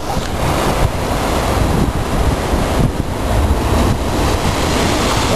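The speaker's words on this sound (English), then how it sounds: "The waves are coming in here, smashing on these rocks." Ocean waves crash onto rocks on a Hawaiian shore, a loud, continuous roar of surf that swells and breaks repeatedly, with buffeting wind noise on the microphone.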